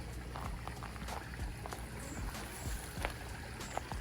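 A DIY pond aerator pushes air into outdoor pond water, giving a continuous, busy bubbling and gurgling wash with scattered splashes and faint thumps, at a moderate level throughout.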